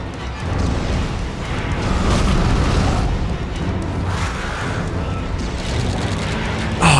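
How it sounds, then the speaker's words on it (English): Fire set loose across a space in the Dead Space video game, a dense continuous roar of flame with booming bursts throughout, loud and steady without a break. "I'm gonna set everything on fire"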